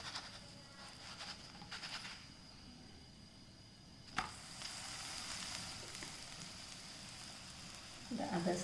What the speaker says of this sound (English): Let's put the rolled paratha on it and fry them.